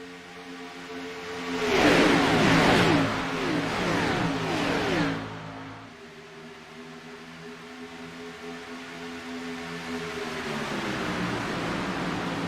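Race cars in a stock car racing video game at Daytona International Speedway, a loud roaring engine pass swelling and fading over a few seconds, then steady droning engine tones continuing at moderate level.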